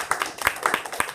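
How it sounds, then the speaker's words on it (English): A few people clap for a speaker at a speaking club meeting, a brief sparse patter of individual hand claps, close and uneven. "can we give him a round of applause?"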